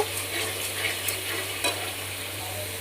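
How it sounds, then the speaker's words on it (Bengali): Spice paste sautéing in a pan for pabda fish curry, with salt just added: a steady close sizzle and fry hiss carrying light scraping stirs throughout, no talking and a low steady hum beneath. "এবারে দিয়ে দিচ্ছি পরিমাণ মতো লবণ আর একটু মশলাটা ভালো করে কষিয়ে নেব"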